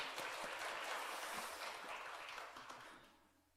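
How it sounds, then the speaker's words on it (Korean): A church congregation gives a round of encouraging applause during a Korean worship service, a broad, steady clapping from many people that gradually tapers and fades out at the end, quiet and distant. "예, 우리 격려의 박수 하겠습니다."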